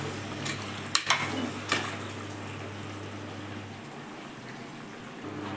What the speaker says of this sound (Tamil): எண்ணெயில் ஒரு 5 நிமிஷம் நல்லா கலந்து கிளறி விட்டுருவோம்